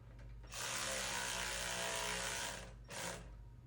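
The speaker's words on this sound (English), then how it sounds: "We're going to go ahead and run the nuts down on these" A power tool runs nuts down on the mower-deck mount for a GrassFlap on a Scag SWZT 48-inch mower: one sustained whirring burst of about two seconds, then a brief second spin after a short pause, close and clear.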